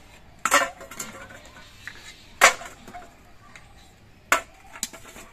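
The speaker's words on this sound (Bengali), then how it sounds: "এবার এই ডিমগুলো আমি নামিয়ে নিচ্ছি" Boiled eggs lifted out of a wok, three sharp metallic clanks of a utensil against the pan spaced a couple of seconds apart, with softer knocks between in a quiet kitchen.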